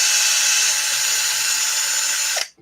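A power tool whines steadily at high speed while backing a bolt out of an RC basher car, loud and close, then cuts off abruptly near the end.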